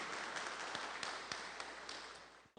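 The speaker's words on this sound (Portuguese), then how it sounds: "e dê uma salva de palmas para o Senhor Jesus." A church congregation applauds during a worship service with steady, dense clapping that carries on evenly and then stops abruptly.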